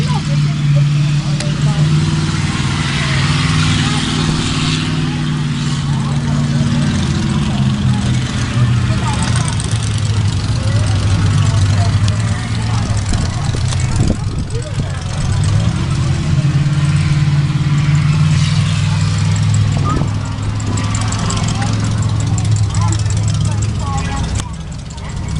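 Monster truck engine at a beach monster truck show in Wildwood, New Jersey, idling loudly with a steady low rumble and occasional revs, continuous throughout with crowd and voices mixed in.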